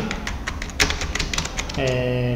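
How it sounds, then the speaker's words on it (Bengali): Rapid clicking of keys as a sentence is typed on a computer keyboard, a close, quick run of taps lasting under two seconds before a voice starts speaking. "আমি একটা সেন্টেন্স টাইপ করি"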